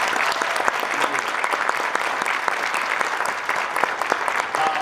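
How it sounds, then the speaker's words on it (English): A crowd at a graduation ceremony applauds steadily, a dense wash of clapping that holds at an even level from start to finish. "Let's get a nice round of applause."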